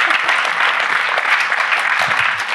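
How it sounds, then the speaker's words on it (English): A church congregation claps together, a short burst of steady, fairly loud applause with no voices over it. "Let's clap about that."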